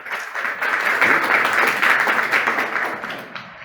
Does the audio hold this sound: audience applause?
yes